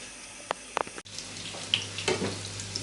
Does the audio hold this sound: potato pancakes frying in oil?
yes